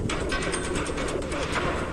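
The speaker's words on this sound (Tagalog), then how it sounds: "Karera ng mga kalapati." Racing pigeons coo softly and continuously amid a busy bed of bird noise, with no voices.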